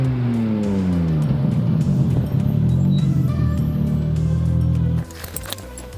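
A Volvo 850 station wagon built as a budget track car drives hard on a racing circuit, its loud engine note climbing and falling through gear changes with some tire noise, then dropping away sharply near the end.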